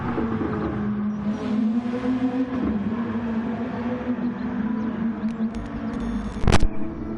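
Gr.2 race cars in Gran Turismo run through a league race, a steady whining engine drone with shifting pitch, a faint passing car and a sharp click near the end.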